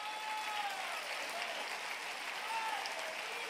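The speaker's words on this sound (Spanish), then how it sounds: "A un aplauso al Rey bendito" Congregation applause for the king at a Holy Supper church service: steady, fairly faint crowd clapping that runs evenly throughout.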